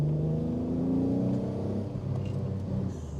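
A Daewoo Matiz fitted with a 3.2 V6 engine accelerates from third gear, giving a steady, loud, close engine drone whose pitch rises and then eases back, with no voices.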